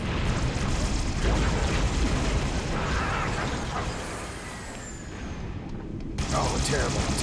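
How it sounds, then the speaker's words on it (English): A grenade goes off in Halo: The Master Chief Collection with a broad rumbling burst, and a ringing, decaying tail beneath busy combat noise before another blast near the end. "Grenade."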